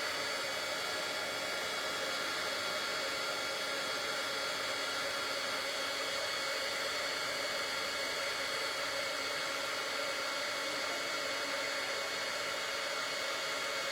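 A heat gun melts white embossing powder on a handmade greeting card, giving a steady, loud blowing whoosh like a hair dryer that runs unbroken for the whole stretch with no talking.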